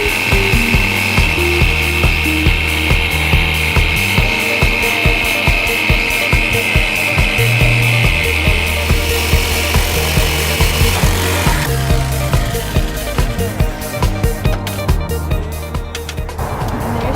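A power saw blade cuts a window opening through the wall of a Sprinter van, a loud, continuous close-up rasping buzz with a fast, steady stroke rhythm that shifts pitch partway through.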